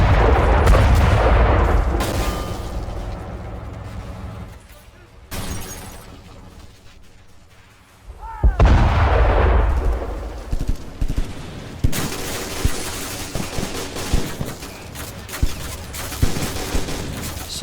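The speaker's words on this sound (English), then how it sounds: "So using my rocket salvos again, just trying to keep the horde at bay." Rocket salvos and heavy gunfire from a Men of War: Prokhorovka battle, with a loud barrage at the start, a quieter lull, then renewed booming bursts and rapid repeated impacts through the rest.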